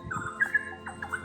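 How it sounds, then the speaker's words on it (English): Small birds chirp outdoors around 6 a.m., with a few quick faint tweets spaced across a quiet morning background. "Hear the birds?"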